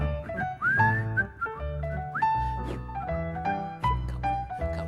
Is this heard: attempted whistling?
yes